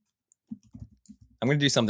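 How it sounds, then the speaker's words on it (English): A computer keyboard gives a few quiet, scattered key clicks in bursts. A voice then cuts in loudly over the end. "I don't like all that typing"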